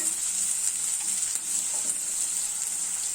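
Three large onions, finely chopped, frying in a pan as the base of a home-cooked chicken gravy, with a steady bright sizzle throughout and no talking.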